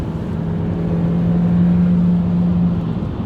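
Steady engine drone of a 2021 Kia K5 heard from inside while driving, a low warbling hum with a faint offbeat pulse and a gentle rise in pitch midway.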